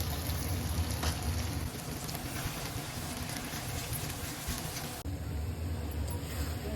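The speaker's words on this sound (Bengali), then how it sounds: "তো মশলাটা একটু ভাজা ভাজা করে নিয়ে তারপরে এখানে দিয়ে দিব আমরা টমেটো" Masala spice paste for a meat curry frying in a pan, a steady close sizzle and crackle with a brief shift partway through.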